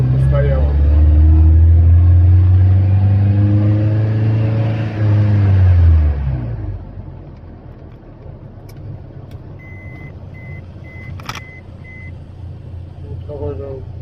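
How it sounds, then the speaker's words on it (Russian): A car makes a low rumbling drone with faint knocking and rattling while driving, heard close up for the first half before fading into quieter road noise and a few light clunks. The car developed the noises after standing parked for a while. "Вот какой-то это стуки, дребезги. Не пойму, что такое."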